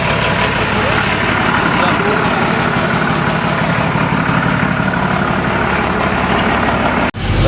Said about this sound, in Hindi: तो दोस्तों इंजन जो है चालू हुआ